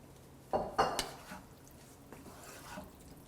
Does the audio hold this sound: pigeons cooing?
no